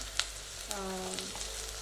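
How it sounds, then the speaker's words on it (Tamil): Steady sizzling of soya chunks frying in a pan until browned, with a brief tonal squeak partway through and light clinks. "இன்னும் ப்ரௌன் ஆகிற வரைக்கும் கொஞ்சம் அப்படியே வதக்கிட்டே இருங்க."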